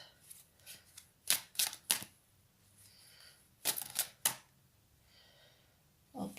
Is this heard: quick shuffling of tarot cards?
yes